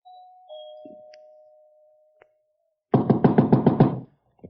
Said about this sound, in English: punched at the doorbell, and heard it ring inside.